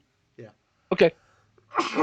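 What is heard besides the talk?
sneeze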